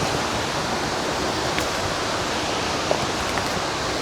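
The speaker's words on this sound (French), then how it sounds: "on arrive sur une autre cascade" Steady, loud roar of a waterfall on a tough Alpine hiking trail, a dense broadband rush that holds constant throughout with no voices over it.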